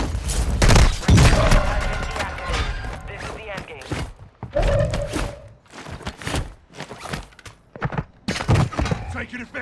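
Bursts of gunfire in Call of Duty: Modern Warfare II, with sharp irregular shots and volleys scattered across the clip, some close and punchy and others quieter, with thuds in between.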